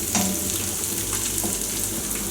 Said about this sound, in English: As the fish is frying on other side